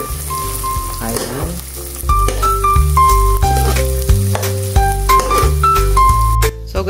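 Sliced onions frying in a pan and being stirred: a steady sizzle with occasional scraping strokes, partly masked by loud background music.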